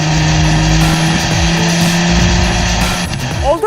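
An Abarth 124 Spider's 1.4-liter engine revving hard, a loud, close, rasping exhaust note rising and falling in repeated throttle blips with rumbling low end throughout.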